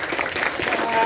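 An audience at a voter-education public event applauds in a short burst of dense, steady clapping, fairly close and full throughout the brief moment.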